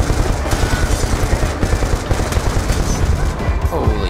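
Rapid, sustained automatic gunfire in a Call of Duty: Black Ops 2 battle, loud and continuous with a steady rattling rhythm, with shouting voices mixed in.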